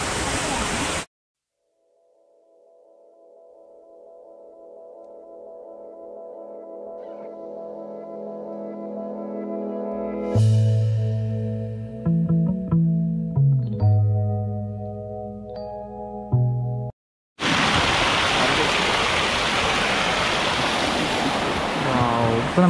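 A waterfall at Braemore estate near Thiruvananthapuram gives a loud, rushing roar at the start and again at the end; between the two bursts, sustained musical tones take over.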